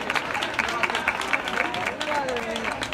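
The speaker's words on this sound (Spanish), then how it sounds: "Un aplauso para ellos." A crowd gathered for a carnival chirigota evening in Jaén applauds, a sustained wash of many hands clapping at close range, with voices and cheers mixed into the noise.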